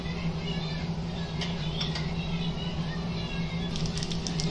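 Cumin and red chili tempering in hot ghee for a pea and potato curry, a continuous sizzle with scattered sharp crackles and pops throughout.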